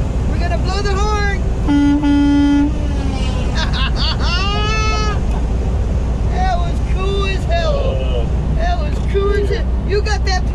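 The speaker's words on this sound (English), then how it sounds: "We're gonna blow the horn." A truck horn blasts in several loud toots while passing a friend's truck on a Nebraska road, with steady engine rumble beneath and people talking and cheering around the honks.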